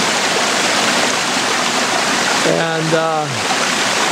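Water pouring over a dam spillway at low water, where a board has come out, gives a loud, constant close rushing roar throughout, with a voice speaking briefly over it partway through.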